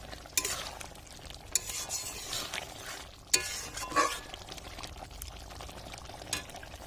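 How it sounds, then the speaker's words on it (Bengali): A meat curry stirred in a pot after fried onions and coriander are added, with scraping and soft wet sizzling in several separate strokes, fairly quiet and close, without talk. "এবার আমি ভালো করে মিশিয়ে নেব।"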